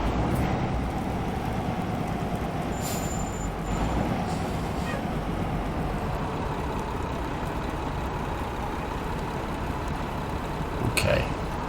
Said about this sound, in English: So I am most definitely using the brakes, but we are really not slowing down very much.